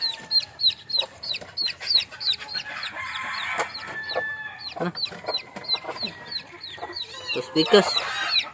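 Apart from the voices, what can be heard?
chickens clucking, a mother hen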